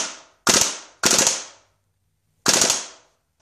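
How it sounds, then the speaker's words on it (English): Three short bursts from a fully automatic airsoft gun, each a sharp rapid rattle lasting about half a second with gaps between, close and loud with no talking. "So, give you an example of the gun shooting."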